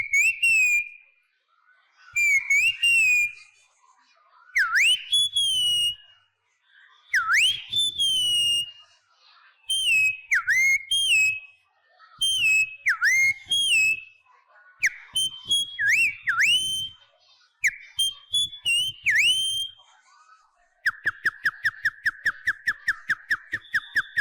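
A wild bird gives a whistle-like call over and over in clear, rising and falling bursts separated by short pauses, ending in a fast run of short repeated notes.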